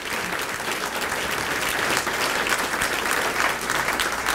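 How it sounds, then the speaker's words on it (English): Sustained audience applause after a presentation by the president and CEO of a foundation, a steady dense clapping from a large crowd that holds at an even level for several seconds. "Let's give David another round of applause."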